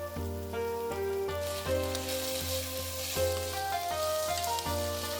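Green and yellow capsicum stir-frying with pepper in a pan for restaurant-style chilli gobi, a steady close sizzle running throughout under a sustained tonal hum, with no talk.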